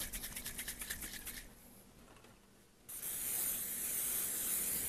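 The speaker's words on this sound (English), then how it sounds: "I'm going to use some cooking spray." Cooking spray hisses onto a pan, first in a run of short rhythmic bursts and then, after a pause, as one long continuous close spray.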